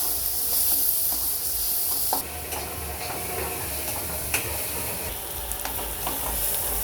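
Salted onions softening and browning in oil give a constant, moderately quiet sizzle, broken by occasional small clicks and taps from stirring, with no voices.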